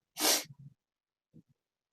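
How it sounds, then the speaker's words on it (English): A single sharp sneeze bursts out close to the microphone, followed by a few faint breaths and snorts before silence. "Sorry, it's a sneeze, folks."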